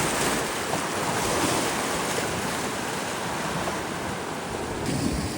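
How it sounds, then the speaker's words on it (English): Ocean waves rolling on the open sea surface make a continuous, full-bodied wash of surf with wind mixed in, steady and fairly loud throughout, with no voices. "when we see waves on the surface of the ocean"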